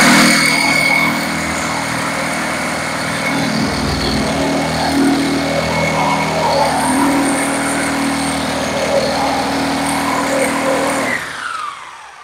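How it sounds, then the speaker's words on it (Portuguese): An electric drill drilling into a wall runs with a steady, loud buzzing whine for about eleven seconds, then winds down and cuts off. "Aí você vai com a furadeira."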